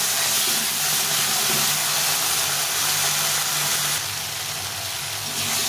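Ginger, cumin and chili masala sautés in a pan for a vegetarian soya bean curry, giving a steady, loud broadband hiss and sizzle that runs throughout with no voices.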